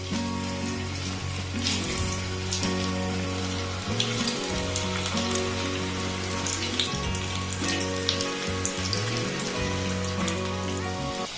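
Onion pakoras sizzle in hot oil after being dropped in one by one, making a steady, bubbling crackle with sharp pops over a low humming drone, with no voices.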